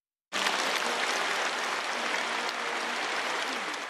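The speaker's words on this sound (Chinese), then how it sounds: "全场响起热烈掌声。" Warm, sustained applause from roughly 1,500 delegates fills the Great Hall of the People in Beijing at the opening of a national youth league congress. It starts abruptly and rolls on as a dense, even wash of clapping with no voices.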